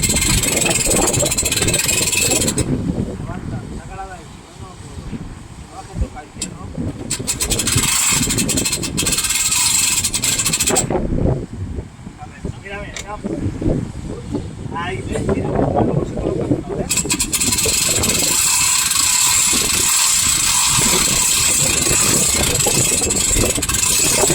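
A fishing boat engine drones and idles nearby in Spain, mixed with wind buffeting and bursts of talk, its rumble rising and falling as it approaches.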